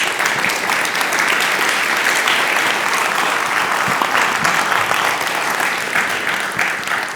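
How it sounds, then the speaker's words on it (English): An audience at a university alliances open session applauds the panelists with sustained, dense clapping that fills the hall evenly from start to finish, with no voices standing out. "I think I will invite you to join me in applauding our panelists."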